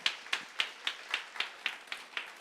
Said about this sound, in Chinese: 我们拍手来祝福他们哈